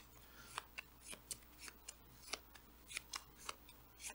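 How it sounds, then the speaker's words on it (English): Deck of game cards being shuffled, a series of quick crisp riffling snaps at close range, quiet and without talk. "I'll shuffle it back up."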